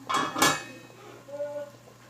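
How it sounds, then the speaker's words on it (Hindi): Rice tipped into a pot of already boiling water for a degi chicken biryani: two short, rushing bursts up front, then a softer, low simmering hiss that carries on alone. "पानी को उबाल आ चुका है और अब हम इसमें चावल ऐड करते हैं।"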